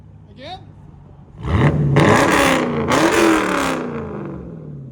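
A Dodge Challenger Scat Pack with a 6.4L V8 revs hard and loud, two rising roaring bursts close by, after a brief voice at the start.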